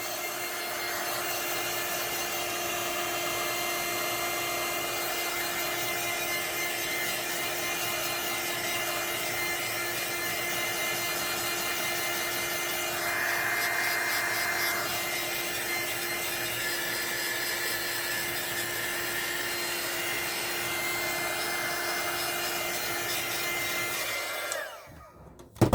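A hair dryer blows steadily for about 25 seconds on a thrift-store furniture makeover piece, a loud constant whooshing drone with a slight rise midway that cuts off at the end.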